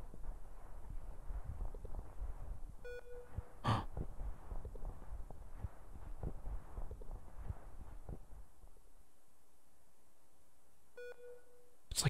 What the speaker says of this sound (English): the beeping is like right here